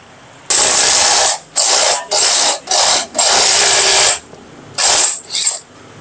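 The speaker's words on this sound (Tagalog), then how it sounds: "Power tools ang gamit natin at syempre yung mga special tools natin." A power tool whirs in loud bursts, about seven short runs separated by brief pauses, close and with no talking, during work on a Honda ADV160 scooter hub.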